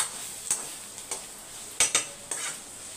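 Ivy gourd roasting in a pan, a steady high sizzle with a few sharp scrapes of a spatula stirring through it, close and alone without any voices.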